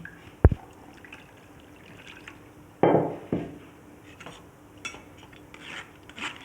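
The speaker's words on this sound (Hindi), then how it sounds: "इसमें मज़ीद पानी डाल लूँगी मैं।" Water poured into strained tamarind and plum pulp in a kitchen bowl while making sharbat. A sharp clink opens, followed by a splashy pour of a second or so, then scattered drips, light trickles and utensil taps.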